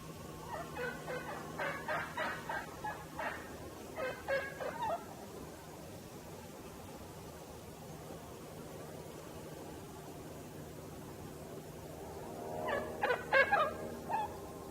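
Osceola wild turkeys gobble in a pasture, a rapid rattling burst of gobbles at the start, more gobbling around the middle of the first half, then a quiet stretch before another gobble near the end, moderately distant and faint.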